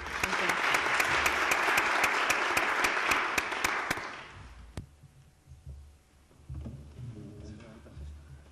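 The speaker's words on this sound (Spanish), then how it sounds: "Con un aplauso." Audience at a panel discussion on social learning breaks into dense, steady applause that cuts off after about four seconds, followed by quiet room noise, a thump and faint talking.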